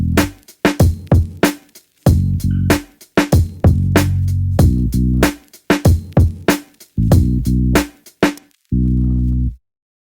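Boom bap beat made in FL Studio from a flipped disco sample, with a reworked bass line: punchy drum hits and short bursts of deep, pitched bass stabs in a choppy, start-stop groove, loud and without voices.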